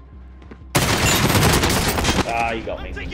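Loud burst of gunfire in the video game Warzone, a dense stretch of rapid shots lasting about one and a half seconds before tapering off, with game sounds trailing behind.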